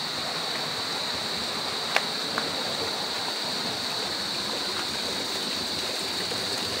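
A flowing hot spring river at a resort in Irosin, Sorsogon, a steady, close, continuous rush of water with a couple of faint clicks and no talking.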